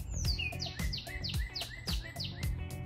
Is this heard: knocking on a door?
no